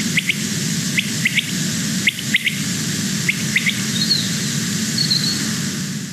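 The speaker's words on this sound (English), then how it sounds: "So that quail was flying around singing" Common quail singing in flight around the dawn chorus: short, sharp high chirps in small clustered groups repeat through the clip, over a steady background of insect buzz and distant birdsong.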